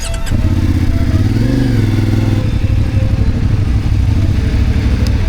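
CFMOTO 450MT motorcycle engines idle and rumble loudly and steadily up close at an off-road training ground, with a brief rise in pitch partway through as one revs.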